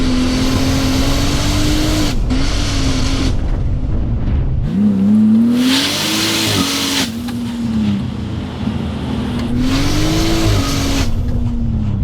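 A 700HP big-turbo Chevy Trailblazer with a stock motor and transmission does a loud flyby, engine roaring through rising and falling revs with gear changes, surging close past and fading, no talk.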